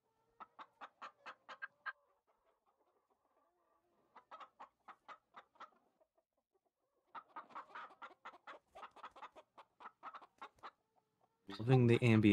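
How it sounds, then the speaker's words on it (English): Chickens cluck in short rhythmic bursts near a greenhouse, coming in several separate runs with quiet gaps between them, before a burst of louder noise at the end. "Loving the ambient chicken noises. I hear chickens."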